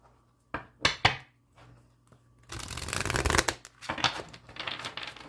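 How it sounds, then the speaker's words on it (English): A crystal tarot card deck being shuffled, with a few sharp riffle bursts followed by a longer continuous stretch of close, crisp card shuffling with no talk. "Okay, I need to shuffle this one more time."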